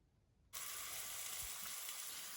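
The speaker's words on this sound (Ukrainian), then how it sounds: "У глибоку пательню наливаю олію і викладаю сюди нарізану цибульку." A sudden burst of steady, hissing sizzle as chopped onion hits hot oil in a deep frying pan, continuing evenly and fairly loud after a quiet start.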